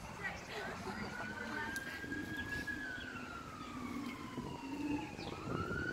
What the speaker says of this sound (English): Sirens are going crazy.